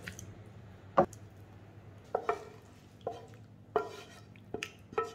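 Cooked mutton liver (kaleji) being scooped off a hot tawa, giving a handful of soft wet squishes and spatula scrapes spaced about a second apart over a faint sizzle.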